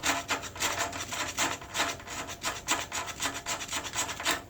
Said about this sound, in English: this striker is capable of getting shavings off of a piece of fatwood